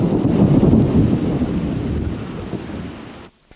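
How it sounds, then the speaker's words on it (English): An electrical storm over Newcastle rumbles with deep, rolling thunder over steady heavy rain, loud and dense throughout before cutting off abruptly near the end. "Last night's electrical storm over Newcastle provided a spectacular display."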